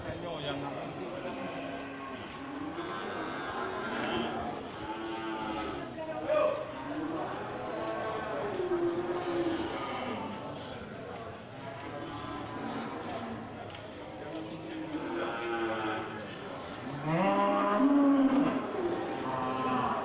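Simmental cattle moo repeatedly at close range, several low drawn-out calls overlapping one another, with someone talking over the herd.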